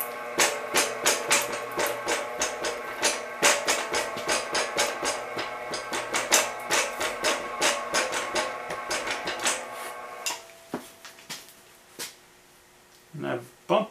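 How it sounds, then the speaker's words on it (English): A bead roller, a Woodward Fab WFBR20 fitted with an Eastwood 21111 motor, runs with a steady rhythmic bumping from grub screws on its 21 mm wheels; repeated knocks continue for about ten seconds, then the motor stops and a few scattered clanks follow. "that bumping that you heard is likely the grub screws on these wheels"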